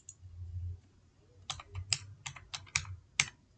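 Typing on a computer keyboard while writing HTML code, a quick run of about eight sharp key clicks in an uneven rhythm, close and fairly quiet, with no talking.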